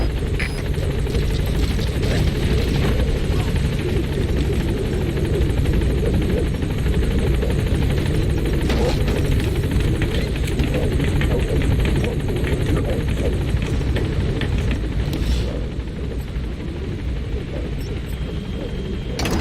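Helicopter rotor chop from the Pequod gunship hovering at a landing zone in Metal Gear Solid V: The Phantom Pain, a loud, steady whirring drone held throughout with no speech.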